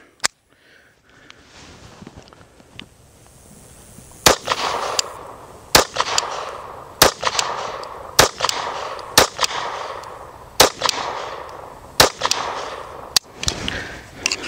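A .22 rifle firing Federal Punch ammunition, about nine sharp, loud cracks spaced roughly a second apart after a quieter opening, each shot ringing briefly before the next.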